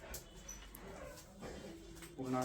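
A dog whimpers quietly nearby, with thin, high whines that rise into a short tonal whine at the end.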